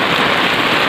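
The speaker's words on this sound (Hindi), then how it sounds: "भारी बारिश के कारण" Heavy rain pours down near a village river in flood, a dense, loud, unbroken hiss of drops striking surfaces with no pauses.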